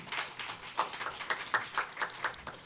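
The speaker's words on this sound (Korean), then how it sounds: "큰 박수로 환영해 주십시오" Scattered clapping from a small audience at a climate and ecological law forum, a few distinct hand claps in an uneven rhythm rather than full applause, fairly quiet and heard alone without talk.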